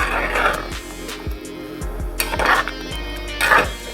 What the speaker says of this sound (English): So at this stage, just give it a good stir.